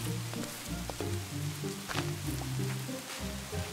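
Steady rainfall patters and hisses continuously in Minecraft at night, mixed with low tonal notes of background music, without any voices.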